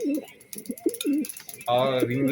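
Budapest racing pigeons coo in repeated soft, warbling phrases close by, followed by someone talking loudly over them.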